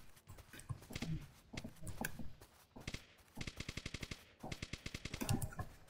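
Rapid gunfire in the Roblox game Polybattle, bursts of quick automatic shots mixed with single reports and game effects, fairly loud with some clutter between volleys.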